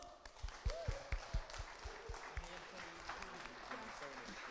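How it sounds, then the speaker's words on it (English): Audience at a song contest launch event applauding the sound crew, faint, steady clapping from a crowd with a voice speaking over it at the start and intermittent chatter. "Can you give them a huge round of applause?"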